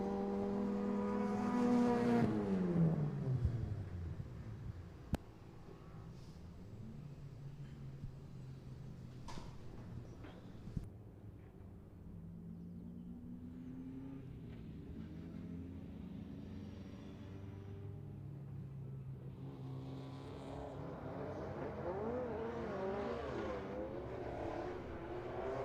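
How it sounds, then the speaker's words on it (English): A six-cylinder BMW rallycross car at Mondello Park roars past, its engine note sweeping and shifting as it powers across the finish line, then fading into a steady distant drone before rising again. "Glorious noise of the 6-cylinder BMW as it powers across the finish line."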